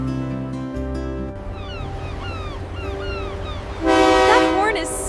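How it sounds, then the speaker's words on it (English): A cruise ship horn sounds loudly aboard the vessel, its steady, sustained tonal blast surging stronger near the end amid a bright, harmonic-rich background. "That horn is so loud."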